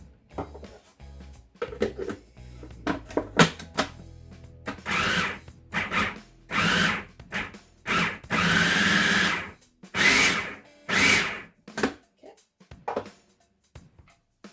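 Food processor pulsing bacon in short bursts of whirring motor, several separate pulses of varying length with brief pauses, loud and close, a few of them longer, with quieter clattering and handling noises at the start.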